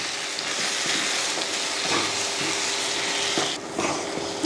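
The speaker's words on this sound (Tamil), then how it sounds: "இப்போ இதை வதக்கிடுவோம்" Continuous hissing sizzle of onion, tomato and spices with garam masala sautéing in a hot pan for chicken kulambu, steady and fairly loud, with faint stirring scrapes and no talking.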